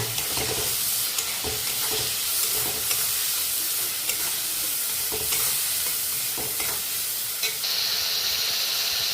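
Spices for a paneer curry fry in oil with a splash of water, giving a steady soft sizzle and steam hiss, with periodic scraping stirs and a brighter hiss near the end.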